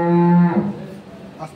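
A dairy cow of an improved milking breed on a farm lets out one loud, close moo lasting about half a second, followed by quieter barn sounds.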